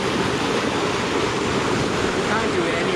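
A raging river rushes over slippery black rocks, a dense continuous roar of churning water, loud and close, with no pauses and no clear voices over it.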